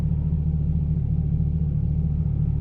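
A C8 Corvette fitted with a Borla ATAK exhaust, heard as a deep, steady low engine rumble, loud and close, with no voices over it.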